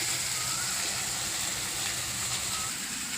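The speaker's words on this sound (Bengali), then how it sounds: "পেঁয়াজটাকে একটু লাল লাল করে ভাজি।" Onions fry in a wok with a steady, even hiss of hot oil that carries on without a break, close and moderately loud.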